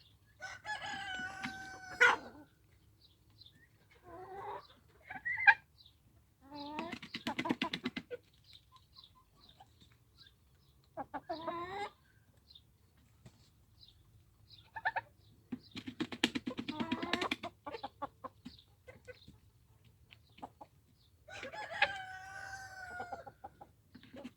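A rooster crows loudly at the start and again near the end, with hens clucking and squawking in scattered bursts between, close by.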